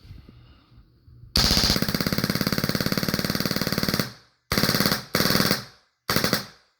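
A Tippmann 98 Custom paintball marker set up as a heavy machine gun dry fires with a loud, rapid mechanical clatter: one sustained burst of about three seconds, then three short bursts separated by brief pauses.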